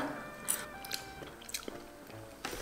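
Close, quiet chewing of slightly too-crunchy rice cooked with coriander: a few soft bites and moist squishy mouth sounds spread across the moment, with no talk.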